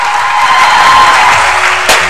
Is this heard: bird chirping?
no